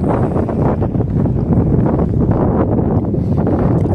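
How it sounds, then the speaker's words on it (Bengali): Strong wind blows hard beside the Srinagar–Leh highway along the Indus River in Ladakh, a loud continuous low roar buffeting the microphone throughout. "প্রচন্ড হাওয়া দিচ্ছে"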